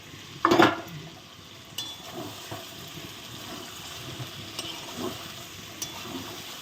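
Chicken curry with potatoes is stir-fried in a pot. A loud clatter of the stirring utensil comes first, then a low, continuous sizzle with occasional light scrapes and taps.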